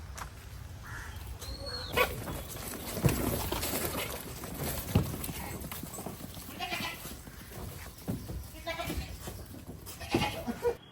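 Goats bleat on a goat farm, several short cries at irregular intervals, mid-distance and moderate, over steady background noise with people talking faintly.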